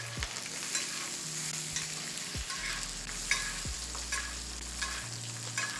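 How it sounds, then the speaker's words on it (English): Steak sizzles steadily in a hot pan while being basted with melted butter and garlic, the frying hiss constant and close with occasional spoon scrapes and clicks, no talking. "you're just gonna baste the steak with the sauce, with the butter and garlic"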